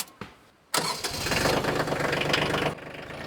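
A compact tractor engine cranks briefly, catches with a sharp burst, then settles into a steady, loud mid-pitched idle with a rhythmic chug before easing down at the end.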